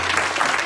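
Church congregation applauding during a worship service, a dense and steady wash of clapping that sounds loud and close for a brief moment.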